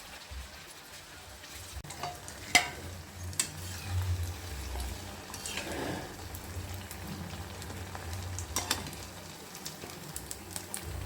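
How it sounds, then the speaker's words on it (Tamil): Semolina and potato snacks deep frying in oil in a kadai, heard as a low, continuous bubbling crackle with scattered clicks and bumps from a utensil, close but fairly quiet, with no talking. "கடாயில் எண்ணெய் வச்சுருக்கேன் எண்ணெய் காஞ்சிச்சு இப்போ நல்லா இதை போட்டு பொறிச்சு எடுத்துக்கலாம்"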